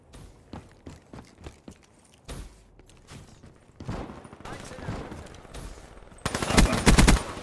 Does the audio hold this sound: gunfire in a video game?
yes